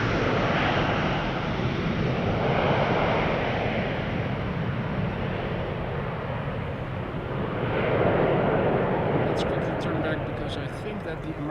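A jet airliner leaves Amsterdam Schiphol bound for Bilbao, a sustained broadband engine roar that swells and fades in waves, with a voice talking over it.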